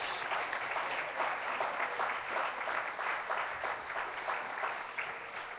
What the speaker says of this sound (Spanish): Un fuerte aplauso a nuestro Dios.